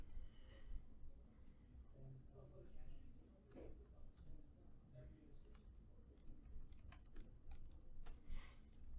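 Keys tapped on a computer keyboard while a GSTN number is entered into accounting software, a loose run of light clicks scattered under steady background noise.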